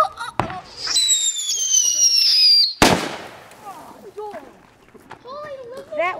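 A firework goes off outdoors near a house: a sharp bang, then a loud rising whistle that ends in a second hard crack, followed by excited voices talking.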